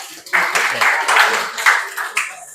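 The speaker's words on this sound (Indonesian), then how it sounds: "kita berikan sekali lagi tepuk tangan untuk kelompok 3" A room full of people applauding a group presentation, a dense, steady wash of clapping lasting a couple of seconds with slight swells in loudness.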